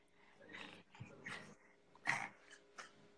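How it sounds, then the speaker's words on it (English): A big dog breathes heavily and snorts close by in several rough, huffing bursts, with one louder snort near the end, quiet overall and without clear talking. "That's a big dog."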